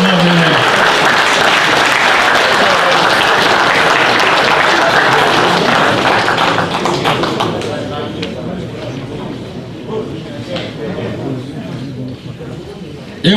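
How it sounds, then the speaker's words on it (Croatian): An audience applauds loudly at a ceremony marking forty years of the Starina Novak guslar society in Pale; dense, sustained clapping fills the room, then thins out and fades toward the end. "Aplauz za njih sigurno."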